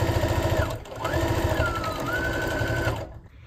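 A sewing machine stitches strips of fabric with a steady, close, rapid mechanical whir, briefly pausing near the start before running on and then stopping, with no talking.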